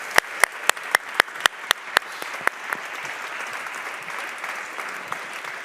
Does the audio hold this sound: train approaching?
no